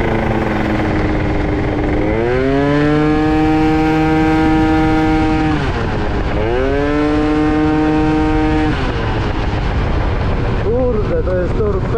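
An Italjet Dragster 180 scooter with a rebuilt engine revs hard and pulls away, its rising whine climbing through two strong accelerations before easing off, loud and close with continuous engine noise throughout.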